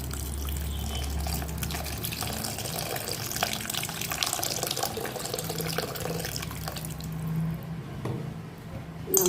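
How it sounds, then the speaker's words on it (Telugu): Soaked tamarind water is poured into mashed dal, making a close, steady liquid splash and trickle with soft squishy sloshing throughout and no talk. "బాగా ఇలా స్మాష్ చేసుకున్న తర్వాత నానబెట్టుకున్న చింతపండు పులుసు యాడ్ చేయాలి"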